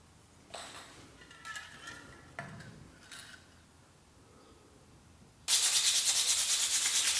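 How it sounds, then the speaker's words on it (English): Quiet scraping and rubbing strokes of sanding rust off bicycle handlebars come in short bursts, followed by a loud, steady, pulsing rasp of sustained sanding. "Right now I'm just sanding down the handlebars."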